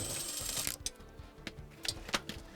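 Transmission pan bolts being loosened on a Dodge Ram 1500: quick, close ratchet clicks in short bursts against a steady background hum.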